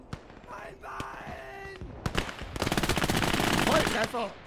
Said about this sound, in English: Grenade blows up in the air.